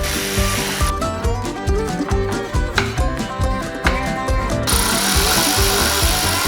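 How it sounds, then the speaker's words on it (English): A power tool cuts Jeep Gladiator sway bar end links to length, giving a loud, rough buzzing grind with a rapid rattling pulse, close and continuous for the whole stretch. "Cutting the sway bar end links to length is not tricky at all."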